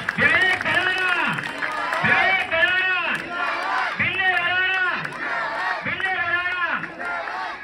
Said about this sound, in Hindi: आप जोरदार ताली एक बार।